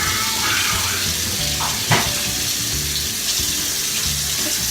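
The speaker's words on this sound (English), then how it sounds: "I'm going to fill my sink right now with cold water" Cold tap water runs steadily into a kitchen sink, a loud continuous splashing rush with one brief clink partway through.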